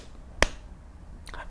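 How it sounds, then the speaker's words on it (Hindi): A single sharp slap from one hand, a crisp snap-like click standing alone, followed a moment later by a fainter second tap. "आप कौन है जिसके लिए मैं सिर्फ एक हाथ से ताली बजा रहा हूं?"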